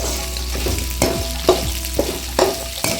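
Onions sauté in a pan for a spicy onion chutney, sizzling steadily while a spoon stirs them in regular strokes that scrape the pan, with no speech.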